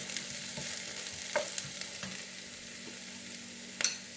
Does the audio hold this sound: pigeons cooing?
no